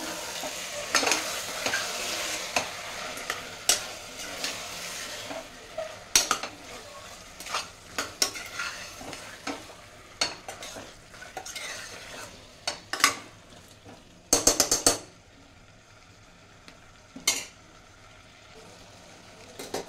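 Curry fries in a pan while a utensil stirs it repeatedly, producing a running sizzle punctuated by frequent close scrapes and metallic clinks, with a louder cluster of knocks near the end.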